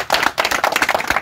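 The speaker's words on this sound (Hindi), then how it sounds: "चलिए दिल से भाई के लिए ताली बजा दीजिए" Audience clapping for a police recruitment candidate, a short burst of dense, steady hand claps lasting about a second with no voices over it.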